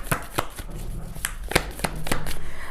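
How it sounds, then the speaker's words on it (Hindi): Tarot cards being shuffled and drawn, heard as a string of crisp close taps and flicks with a soft riffling rustle between them. "Let's pull out some cards."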